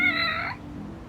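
A single close, clear cat meow from the video game Lost Judgment, bright and tonal, fading out after about half a second into quiet background.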